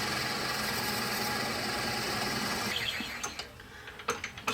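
A lathe bores into a plumb bob with a Forstner bit, making a steady mechanical whir and grinding hum that gives way to irregular knocks and thumps as the cutting stops.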